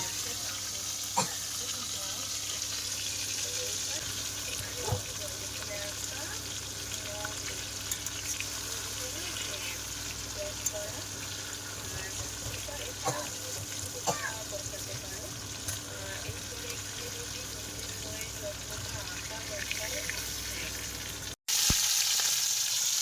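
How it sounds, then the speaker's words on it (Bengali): Boal fish frying in hot oil in a home kitchen pan, a steady quiet sizzle with faint scattered spatter pops throughout, ending with a sudden brighter burst near the end. "ভালোভাবে লাল করে ভেজে নিচ্ছি কিন্তু।"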